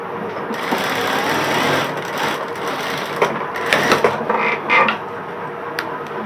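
Sewing machine stitching a hem band on a garment, a steady close whirring drone with a few brief clicks and creaks near the end, no talking.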